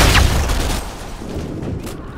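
A stun grenade bangs at the start of a Strike video game match, a loud broadband burst that decays quickly into rumbling gunfire noise.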